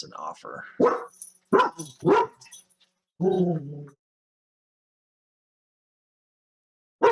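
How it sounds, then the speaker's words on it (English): A pet dog barks in a short burst of several sharp yaps close by, alongside nearby speech, then everything falls silent for a few seconds. "Thanks, dog. Be quiet."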